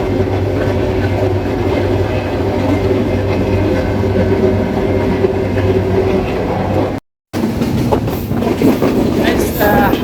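The Rupsha Express passenger train runs along the rails with a loud, steady rumble and rhythmic clatter heard from on board. There is a brief break before the rolling noise resumes.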